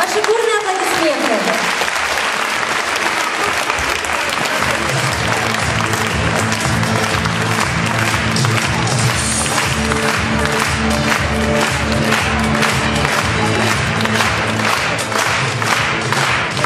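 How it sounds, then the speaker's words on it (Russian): A packed hall at a wellness forum bursts into loud, sustained applause to welcome a speaker. Rhythmic clapping and music build after a brief opening, continuing dense and unbroken throughout. "Ваши бурные аплодисменты!"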